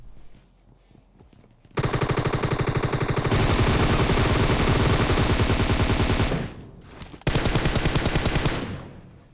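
Groza rifle fire in BGMI: long, loud bursts of rapid automatic shots, one sustained stream of several seconds, then a brief pause and another burst, close and dense.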